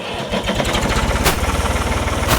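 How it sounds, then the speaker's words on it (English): A used tractor engine runs close by at a steady, throbbing idle-like rhythm while its hydraulic lift raises, with a couple of brief sharper clanks over the continuous drone. "See how fast this lift goes up on this tractor?"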